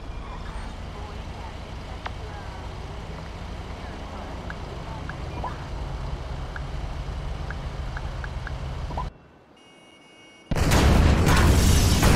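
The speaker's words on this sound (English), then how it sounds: "Detonate the incendiaries, Frank." Incendiary explosives detonate in Grand Theft Auto 5 as a loud, sustained rumbling roar with scattered pops, cutting to near silence, then a harsh blast of noise bursts in at full force.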